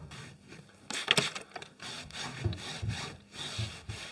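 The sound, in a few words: screwdriver rubbed over a wooden panel joint to close a gap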